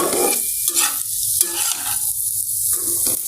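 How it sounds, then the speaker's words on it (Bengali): Fried pointed gourd sizzles in a pan with freshly added chili and onion. A loud, close hiss rises and falls in bursts as the food is stirred. "লাল লাল হয়ে গেছে পটল ভাজিটা এই জন্যই যে এখন মরিচ আর পেঁয়াজটাই মাত্র দিলাম"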